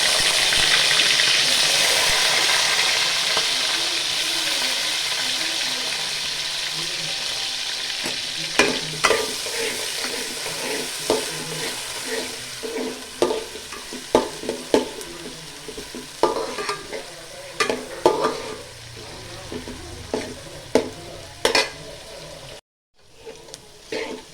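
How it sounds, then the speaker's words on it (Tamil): Onions fry in hot oil for a mutton curry, a broad steady sizzle that slowly fades while repeated spoon strokes scrape and clatter in the pan, growing more frequent toward the end. "நல்லா வதக்கோங்க."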